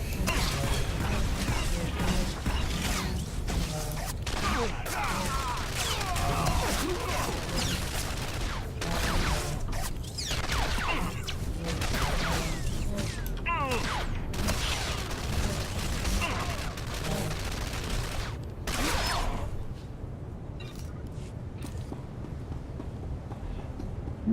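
Gunfire during a sniper duel in Star Wars: The Old Republic, with repeated sharp blasts and mechanical clanks over a busy, continuous battle din that thins out near the end.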